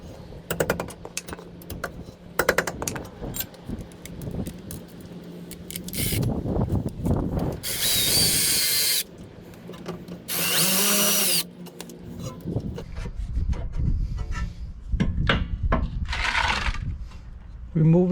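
A power tool spins out the rear brake caliper bolts on a 2012 Toyota RAV4 in two loud whirring bursts, each about a second long, with someone talking before, between and after them.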